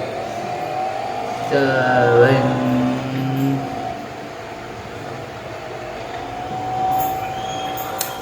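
A train in a video game rumbles along steadily. A brief tonal blare, like a horn, rises early on before the steady rolling continues.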